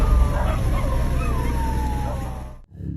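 Dogs abandoned on the islands of Talim yelp and howl, with whining cries rising and falling over a steady background hum before the sound cuts off abruptly.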